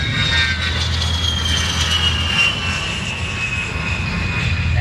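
An A-10 Warthog jet flies past at the Airexpo 2021 air show, its steady engine roar holding loud and continuous with a high whine riding above it, no voices present.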